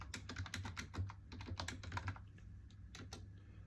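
Quiet typing on a computer keyboard, with rapid, irregular clicks of keys pressed in short bursts, close by and alone.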